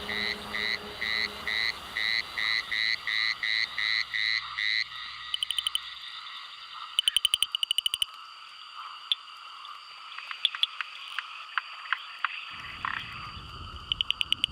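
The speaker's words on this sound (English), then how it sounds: "As night falls and pre-monsoon clouds engulf the skies, it's time for frogs to croak." A chorus of frogs in a forest at night before the monsoon, with rhythmic repeated croaks at the start giving way to overlapping clicks, chirps and calls from several frogs, close and clear with no voices.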